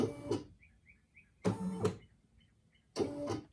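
A Brother SE1900 sewing machine stitching in three short bursts of about half a second each, a close whirring motor hum separated by quiet pauses with faint high chirps in between.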